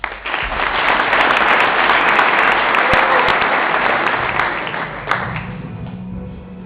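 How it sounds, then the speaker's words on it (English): A conference audience applauds after an intro movie at a startup event, with dense, loud, sustained clapping that gradually tapers off. "And you can applaud, although it's a movie, just go with it"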